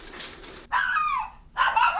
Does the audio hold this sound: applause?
no